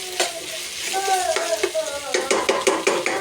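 Boiled potatoes fry in a pan with a bright crackling sizzle, punctuated by frequent scrapes and knocks of a spoon stirring them, close and moderately loud, with brief voices in the background.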